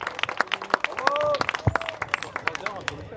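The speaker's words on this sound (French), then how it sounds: "on applaudit très fort Brigitte Balégas" A crowd applauds a second-place woman at a windsurf slalom podium during the Golden Islands Race, with dense, sharp clapping throughout, a few whistles cutting through, and voices underneath.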